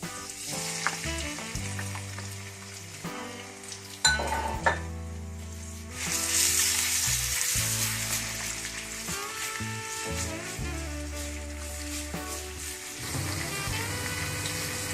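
Steady sizzling and crackling of ground ginger-garlic paste frying in hot oil in a karahi, close and continuous, with some clatter of stirring and faint background music.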